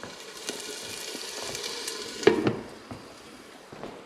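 Rice cooking under a lid beside frying bacon pieces, a steady soft sizzle and crackle running throughout with a sharper spitting burst near the middle, close and moderately quiet.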